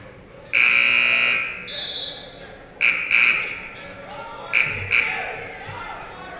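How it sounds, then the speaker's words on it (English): Scoreboard buzzer at a varsity boys' basketball game in a gym, a long loud blast followed by several shorter bursts, with crowd noise and commentary voices underneath. "Someone's having fun with the buzzer"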